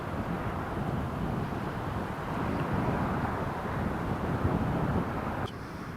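Airliner in from Amsterdam rolling out along the runway after landing at Newcastle International Airport, a distant broad rumble and roar heard with wind buffeting the microphone, steady before dropping off abruptly near the end.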